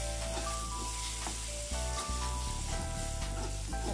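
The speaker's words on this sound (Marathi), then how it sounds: "आता हे मसाले आपल्याला छान तेलावर परतून घ्यायचे आहेत." Ground spices and chicken masala sizzle in hot oil for an egg curry, a dense continuous frying hiss heard close up over a steady low background hum with faint tonal music.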